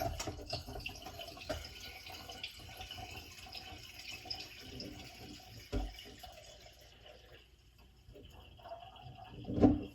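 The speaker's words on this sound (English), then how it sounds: "This will filter out your weird yeasty stuff." Jun kombucha trickling through a filter while being bottled, a steady soft stream of pouring liquid close by with light splashes, ending in a brief louder clatter.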